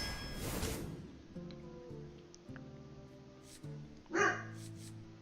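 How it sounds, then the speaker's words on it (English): A dog barks indoors over steady video game music during a Hearthstone session: one loud burst at the start and a second short bark near the end, with quiet music between. "Sorry about my dog."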